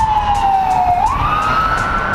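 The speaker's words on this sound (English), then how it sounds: "ambulance." Ambulance siren passing on a street, heard during a Jeep Wrangler hard-top removal: a loud steady wail that sweeps slowly down and then climbs again, filling the whole stretch with no speech over it.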